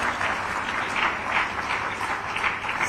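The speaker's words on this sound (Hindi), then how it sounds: "तालियां जोरदार हो।" Steady, moderately loud applause rolls through the hall as Chief Minister Hemant Soren presents appointment letters to community health officers in Ranchi, many hands clapping continuously with no voices over it.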